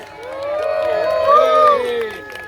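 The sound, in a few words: crowd cheering for active patriots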